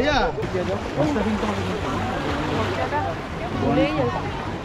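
Boat moving across the water off Goa, a steady rush of engine and wash mixed with wind buffeting the microphone, with voices talking over it.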